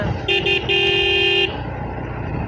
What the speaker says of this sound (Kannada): ಈ ಹಾರ್ನ್ ಒಂದು ಒಳ್ಳೆ ಇದೆ